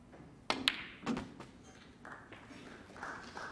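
A long pot is played in a professional snooker match at the 2012 Welsh Open, giving a crisp cue-on-ball tap, then a quick second click and a duller knock as the balls meet, followed by quiet arena ambience.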